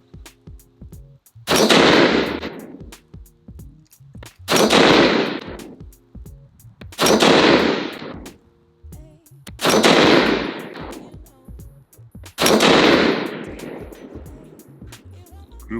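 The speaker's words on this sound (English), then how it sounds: "Up first is going to be the Federal with the Edge TLR 175 grain load, and we'll see how it does in this rifle." Five evenly spaced, loud rifle shots from a Daniel Defense DDM5V2 .308 AR-10 firing Federal Edge TLR 175 grain rounds at a range, each crack followed by a short outdoor echo tail, with quiet gaps between.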